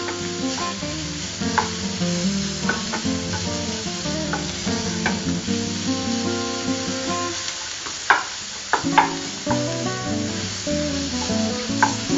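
Prawn pakoda batter sizzles and crackles steadily in hot oil, with a few louder pops and stirring clatters over a continuous bubbling hiss and faint background music.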